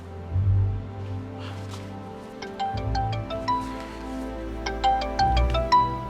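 Mobile phone ringtone playing a repeating melodic chime, moderately close, with low background music beneath and no talking over it.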